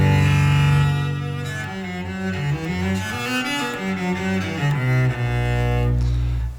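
A Yamaha SVC 110 electric cello with added bass effect plays a bowed phrase, its tone fuller and boomier in the low end, ending on a deep sustained note.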